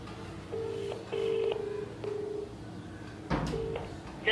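A phone call is placed: short steady dial and ringback tones repeat at intervals, fairly faint, with a sharper burst near the end and no speech.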